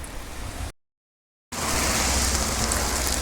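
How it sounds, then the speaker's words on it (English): Steady heavy rain pours down during a Toyota Land Cruiser Prado 120 injector replacement outdoors, loud broadband hiss with a brief silent gap before resuming even stronger and constant. "Raining again."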